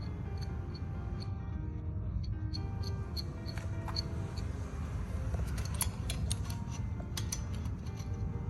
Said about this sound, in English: Adjust the wrench to hold the screw firmly and tighten it.